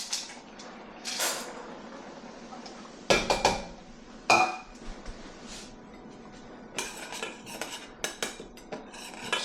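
Instant mac and cheese with cheese powder is stirred in a pot, with a utensil clinking and scraping against the metal in quick irregular bursts and faint quieter pauses between.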